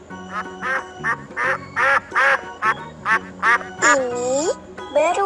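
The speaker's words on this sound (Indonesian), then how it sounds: "Ini bebek." A duck quacks in a loud, rhythmic run of about ten close nasal calls, closing with a couple of drawn-out, wavering quacks, with background music running underneath throughout.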